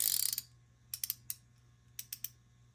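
Dry mechanical clicking from an Anbull flex head ratcheting tube wrench in short bursts, a quick rattling run followed by scattered pairs and triplets of sharp clicks, close and fairly quiet.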